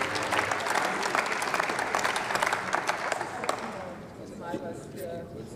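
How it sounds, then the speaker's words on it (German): Applause in the German Bundestag following birthday congratulations to a member, a dense, steady clapping from the chamber filling most of the clip before thinning out near the end. "ich will hoffen, dass das nicht der einzige Applaus in meiner Rede wird"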